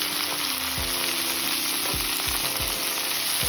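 Bhindi mixed with salt and turmeric in a hot pan, a loud constant sizzle with a few low scraping strokes of the spoon; no talking.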